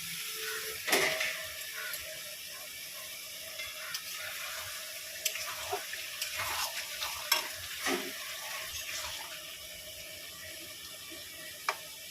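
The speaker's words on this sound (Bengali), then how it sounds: "আলুগুলো একসঙ্গে দিয়েই কষাবো" Fried potatoes are stirred and sautéed together with liver curry in a pan, with scattered scraping strokes of a spoon over a low, steady sizzle.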